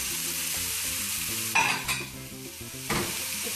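Hamburger patties frying on a very hot griddle, a dense, steady close sizzle with a few louder bursts of spitting and a brief clatter, no talk.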